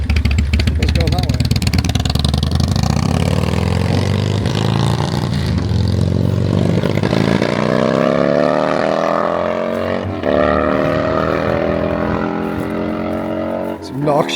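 A performance Harley-Davidson motorcycle engine runs loudly, rumbling and revving with a rising pitch, while people talk over it.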